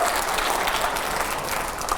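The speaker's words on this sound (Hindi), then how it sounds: "तालियां जरा जोरदार होनी चाहिए हर सवाल के पहले" An audience at a political event bursts into dense, loud clapping that continues steadily throughout, with no voices standing out.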